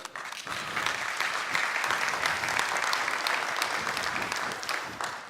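Sustained applause from an audience at a blockchain forum in Dubai, greeting Mo Levin; dense, steady clapping fills the whole stretch at an even loudness with no talk over it.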